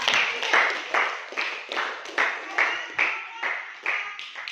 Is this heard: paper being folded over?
no